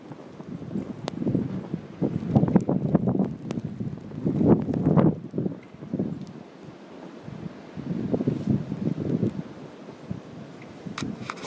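Strong winter snowstorm wind gusting outdoors in the cold, buffeting the microphone in rough, uneven surges that rise and fall over several seconds, with no talking.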